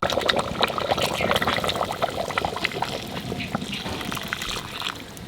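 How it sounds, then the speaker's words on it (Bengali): Hot water poured into mutton in a pressure cooker, a steady close trickling and splashing that runs continuously without a break. "মাংসের মধ্যে এবার গরম জল দিয়ে দেবো"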